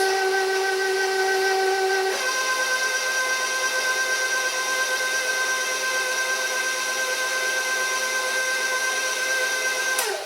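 A planetary stand mixer working cookie dough with dry ingredients gives a steady, loud motor whine with a brief pitch step near the start, then runs unbroken and alone to the end.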